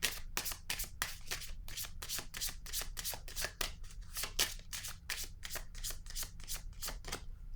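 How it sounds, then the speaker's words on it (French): Playing cards shuffled and laid down during a tarot-style card reading, a steady run of crisp riffling flicks and soft slaps, close and fairly quiet, with no talking. "Je vais déposer une autre carte ici."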